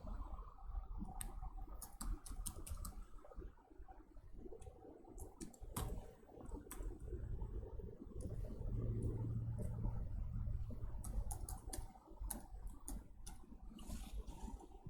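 An email address typed on a computer keyboard, with quick irregular bursts of soft key clicks and pauses between them, close and quiet over a low background hum.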